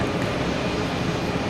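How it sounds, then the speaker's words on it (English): A JetBlue Airbus A220 jet taking off at Boston Logan, a dense, steady engine roar filling the short clip at constant loudness, broadband and without breaks. "We have JetBlue taking off to Detroit, an A220."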